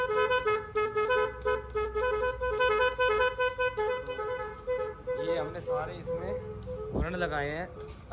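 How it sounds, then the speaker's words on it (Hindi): A truck horn fitted to a scooter sounds in a series of rapid beeping toots, followed by a voice speaking over it near the end. "इसमें लगाया हमने एक हॉर्न"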